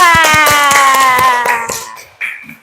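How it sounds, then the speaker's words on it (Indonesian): Classmates applaud group 2 in a classroom, a brisk round of clapping that fades within about two seconds, followed by a last few scattered claps. "Coba tepuk tangan untuk kelompok 2."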